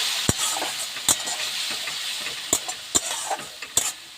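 Spice paste loosened with a little water and chilli powder sizzles in a pan, a close hissing bed broken by several sharp, irregular knocks and scrapes of the spatula as it is stirred, with no talking.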